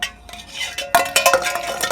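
Metal frying pans, one dented and bent, clank and scrape together in a few quick, close knocks and rattles.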